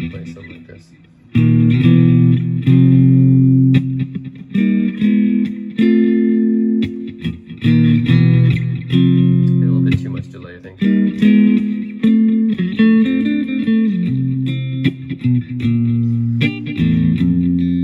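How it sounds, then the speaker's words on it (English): An electric guitar plays through a Positive Grid Spark Mini amp on a clean tone with delay, loud and close, with ringing notes and chords whose echoes trail between phrases. "So it's kind of a clean tone, but it has a some delay on it."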